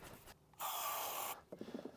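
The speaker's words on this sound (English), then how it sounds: "I'm going to attempt to put some wax oil cavity spray stuff in those screw holes" Wax oil cavity spray is aerosol-sprayed into screw holes on a Fiat Ducato van cab during a blind installation, one steady hissing burst of under a second, close and fairly loud, bracketed by quiet handling noises.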